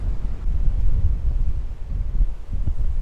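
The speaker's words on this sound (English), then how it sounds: "I've come up to a bit of a higher elevation and it's really windy up here." Strong wind at high elevation buffets the microphone in a steady low rumble with gusty surges, no voices, a continuous roar throughout.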